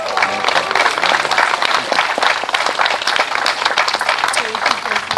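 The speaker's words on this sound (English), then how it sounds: "how about another round of applause for them?" Guests at a parish farewell party give a loud, sustained round of applause, dense clapping with cheering voices throughout.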